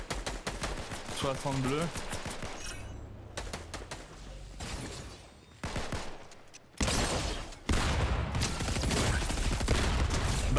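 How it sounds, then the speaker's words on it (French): Gunfire in Fortnite, rapid volleys of shots near and far, with players speaking French between and under the bursts. "on me tire dessus"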